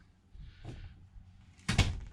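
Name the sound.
campervan door opening and closing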